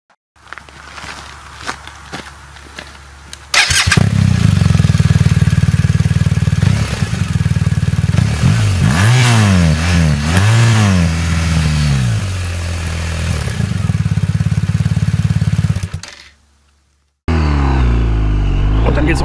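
A BMW R 1250 RS motorcycle pulls away and accelerates through the gears, rising engine pitch sweeping up repeatedly, loud and close after some quiet clatter and footsteps, then cut off before resuming.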